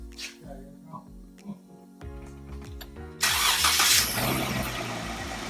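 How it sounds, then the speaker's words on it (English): A Jeep Wrangler engine cranks over with a whirring starter, then catches at about three seconds and settles into a steady, loud, smooth idle. "All right, start her up."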